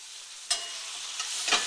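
Chicken fajita meat frying in a pan gives a quiet, steady hiss of sizzle, with a few louder bursts of stirring crackle near the start and the end.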